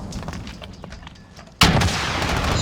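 In an esports shooter match, gunfire crackles in scattered bursts before a sudden loud rocket launcher blast hits, leaving a sustained roaring rumble.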